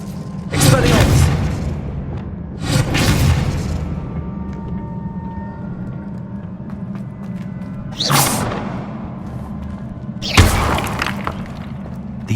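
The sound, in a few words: Expelliarmus disarming spell cast in video game Hogwarts Legacy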